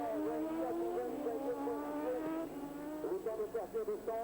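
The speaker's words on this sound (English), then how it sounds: "up against the number 3 bike, Lavier, starting off the race for Honda on the RC45" Suzuki and Honda RC45 racing motorcycles roar off at a race start, engines revving high and wavering in pitch, fairly distant, with a commentator's voice partly over them.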